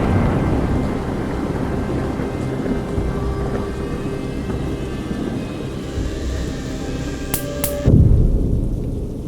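Steady heavy rain pours down with a low rumble of thunder beneath it, a louder crack of thunder breaking through near the end.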